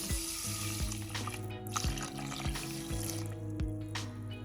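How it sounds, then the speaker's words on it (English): Water is poured into a rice cooker holding quinoa and salt, a steady running splash heard up close and alone, with no talking, over a constant hum of background music. "Add 1 cup of quinoa to a rice cooker with half teaspoon of salt and 2 cups of water."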